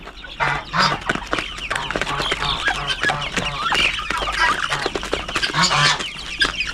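Darag native chickens and jungle fowl cluck and crow repeatedly nearby, a busy overlapping flock chorus filling the whole stretch with steady loud calls.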